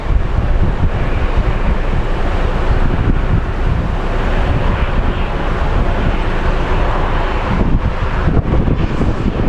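Strong, steady wind buffets the microphone at an outdoor spot beside Sky Harbor International Airport, a loud, continuous rumbling gust with no letup and no talking.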